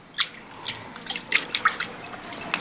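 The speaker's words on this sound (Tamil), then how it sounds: "பருப்பு ஒரு 2 தண்ணி கழுவிக்கிறோம்." Lentils for a Sri Lankan dal curry rinsed by hand in water, giving a string of soft close drips, splashes and squishy sloshes at an irregular pace, quiet and with no talk.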